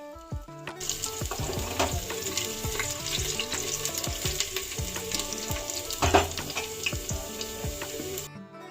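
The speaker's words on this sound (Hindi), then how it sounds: "तेल गरम हो गया था, तो मैंने जीरा डाल दिया है और हींग डाला साथ में।" Cumin seeds and asafoetida sizzle and crackle in hot oil for a tadka, with bursts of popping and stirring clinks from a utensil in the pan, close and continuous.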